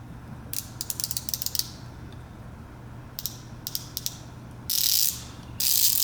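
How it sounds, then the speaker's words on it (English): A Husky 100-position fine-tooth ratchet clicks in fast bursts of rapid, close ticking with short pauses between them, followed by two louder, smoother whirring spins near the end; no one speaks. "This is a 100 position ratchet"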